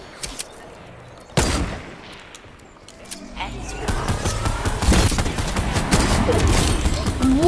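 Sniper rifle fire in the video game Fortnite during a Team Rumble match: a sharp, loud shot early on, then denser bursts of gunfire and rumbling action building over the rest, with a voice talking in places.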